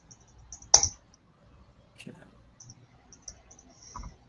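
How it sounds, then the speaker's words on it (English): Sparse computer keyboard clicks tapping in the background, a loud clack near the start followed by scattered faint keystrokes, with quiet room noise between. "I can hear you typing in the background"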